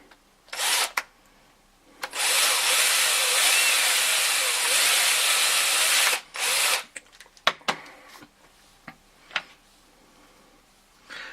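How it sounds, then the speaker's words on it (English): Power drill boring a small hole into a model so it can be pinned, a long steady whine of about four seconds plus a couple of shorter bursts, followed by scattered handling clicks and taps at close range. "Needs a little bit more drilling."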